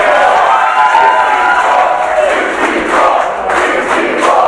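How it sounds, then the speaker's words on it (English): Spectators at the World Axe Throwing Championship chant in unison, a loud, close crowd of rhythmic shouted voices with cheering swelling around them and some surging bursts toward the end. "The crowd chants 64 as that is a perfect score"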